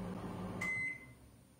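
Microwave oven humming steadily as it heats water, with a low electrical drone and a single sharp beep near the middle before the hum fades out.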